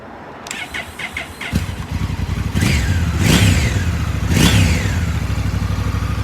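A Honda Africa Twin motorcycle with no exhaust butterfly fitted cranks and fires up, then is revved in three sharp blips that rise and fall over a steady idle, the unbaffled exhaust loud and close.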